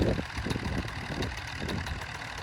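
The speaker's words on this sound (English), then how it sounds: "It sounds just like a two-stroke dirt bike." A Polini Thor 202 two-stroke paramotor engine runs nearby at a steady pace, giving a continuous buzzing drone with no talking.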